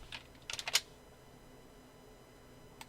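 Keyboard shortcuts are typed on a computer keyboard: a quick burst of about five light clicks, then a lone tap near the end, faint and close in a quiet room.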